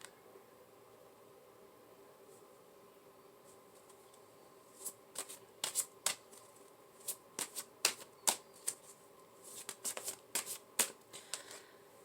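Tarot cards are handled and tapped straight against a surface, a run of quick, crisp flicks and light slaps in uneven bursts over a soft steady background hiss, with no talking.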